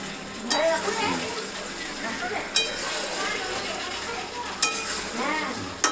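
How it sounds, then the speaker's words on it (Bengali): Chicken curry is stirred and fried with a spatula, a continuous sizzle under talk, broken by a few sharp metallic clinks of the spatula against the pan. "এবার দেখুন কীভাবে রান্নাটাকে করতে কষা হচ্ছে, রান্নাটাকে ভালো করে রেখে নেড়ে নেওয়া হচ্ছে খুন্তি দিয়ে"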